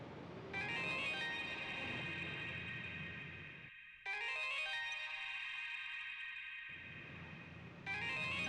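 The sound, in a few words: cellphone ringing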